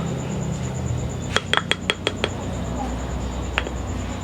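A metal spoon scoops baby food from a glass container, giving a quick series of about six sharp clinks followed by one more a moment later, with quiet talking in the background.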